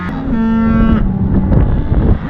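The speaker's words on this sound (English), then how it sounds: "these cows are just going to go right across the road" Cattle moo loudly and close by near a road on a farm, one long drawn-out low call followed by rougher lowing, heard alone with no talk.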